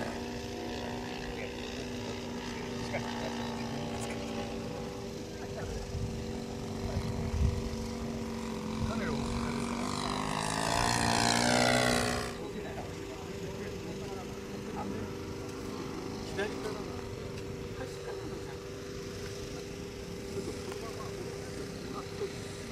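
A Fokker Dr-1 triplane makes a slow low pass: a propeller engine drones steadily, swelling louder and rising in pitch as it nears, then falling away, while people talk nearby.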